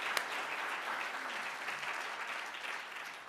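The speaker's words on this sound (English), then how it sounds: "let's give ourselves another round of applause" Steady applause from an audience at a citizenship and immigration law session, dense clapping that holds at an even level throughout with no voices standing out.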